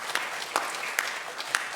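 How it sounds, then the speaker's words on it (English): A small audience claps at a senior music recital, a thin, scattered patter of hands with a few sharper individual claps standing out, fairly quiet in the hall. "Give yourselves a round of applause."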